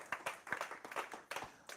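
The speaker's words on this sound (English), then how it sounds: "So give yourselves a big hand clap." Audience hand clapping inside a church, a short burst of sharp, uneven claps from a group, fairly close and with nobody talking over it.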